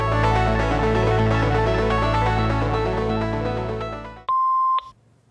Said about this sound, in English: please leave a message after the beep.